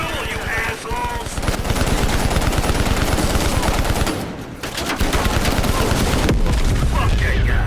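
Sustained rapid automatic gunfire in the Call of Duty Black Ops Cold War video game, loud dense bursts with a brief pause midway, close and continuous.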